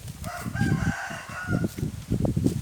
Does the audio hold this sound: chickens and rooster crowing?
yes